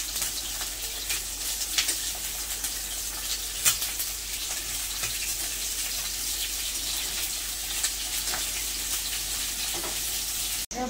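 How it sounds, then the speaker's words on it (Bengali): Eggs fried until reddish-brown in a pan for egg curry, a steady sizzle and crackle of hot oil lasting throughout, close and continuous with occasional spatters. "ভাজা হয়ে গেছে, লাল লাল করে ভেজেছি।"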